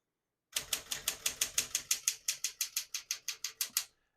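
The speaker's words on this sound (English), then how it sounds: "As you can see, all the keys type nice and none of them skip or stick." A 1962 Smith-Corona Galaxie II portable typewriter typing a steady run of about twenty crisp key strikes in quick even rhythm, close and alone, ending abruptly.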